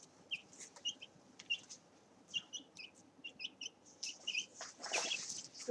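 Several backyard chickens clucking in short, scattered calls, near and moderately loud, over quiet scratching and rustling, building into a busier burst toward the end with no talk.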